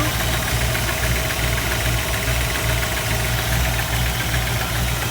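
The 409 V8 in a 1962 Chevrolet Impala SS idles with a deep, rumbling, steady throb and a slight mechanical knock, heard up close from the engine bay without any voices.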